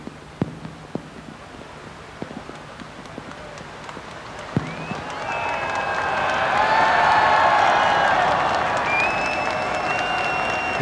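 A large crowd at the 1997 Hong Kong handover ceremony breaks into cheering that swells and holds, following scattered claps and thuds in rain, with rising voices and whistles.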